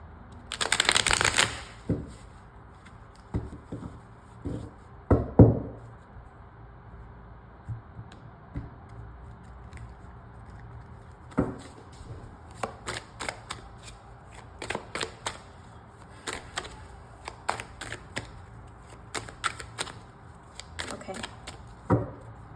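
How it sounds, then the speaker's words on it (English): Repeated crisp riffling of a card deck, a burst near the start and more shuffles later, with quiet handling clicks and a faint room hum between them. "I haven't touched this deck in such a long time, so I definitely feel like it needs a good shuffle."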